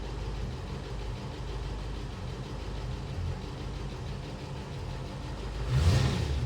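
A Land Rover Series 2A engine runs with the choke on, a steady rough low rumble close by that swells into a brief louder rev near the end.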